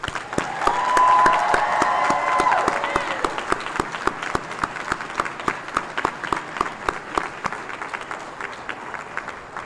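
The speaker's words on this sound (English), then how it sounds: "One more round of applause for the graduates." Graduation ceremony guests give a strong round of applause for technical college graduates, opening with cheers and dense clapping that thins into distinct individual claps as it tapers off.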